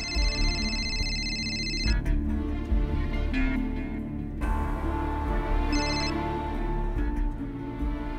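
A phone ring sounds over a steady musical background, one longer tone near the start and a brief repeat later, with no one speaking.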